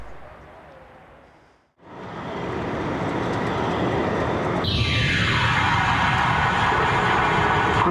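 A Strasbourg tramway runs close by in 2003, its rolling rumble swelling to a loud, steady roar with a bright hiss rising on top, while a voice talks faintly beneath it.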